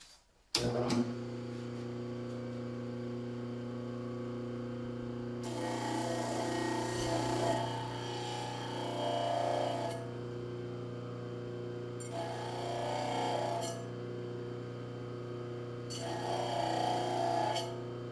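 A knife blade being sanded by hand with 600 grit sandpaper, a soft rasping rub that comes and goes in several separate passes over a steady low hum.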